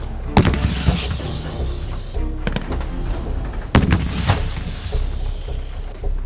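RPG-7 rocket launcher firing and exploding, two sharp loud booms a few seconds apart with rumbling echoes and crackling debris trailing after each blast.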